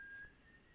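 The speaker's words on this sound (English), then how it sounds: "Ellie's whistling again." A faint, steady whistled tone from Ellie in The Last of Us video game, a single held note over low background noise, fading slightly after the first third.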